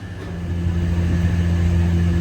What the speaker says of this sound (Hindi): कूलर चल रहा है